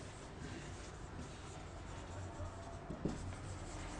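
Pen or marker writing during a programming lesson makes soft, faint scratching strokes over a quiet room, with a couple of small taps near the end.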